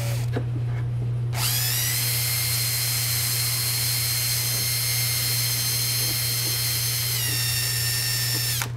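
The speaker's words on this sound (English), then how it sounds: "so I'm just gonna clean them with the drill." A high-pitched power drill spins up and runs continuously at a steady whine, cleaning battery terminals on a 48-volt Club Car Precedent golf cart, its pitch dipping slightly near the end, over a low electrical hum.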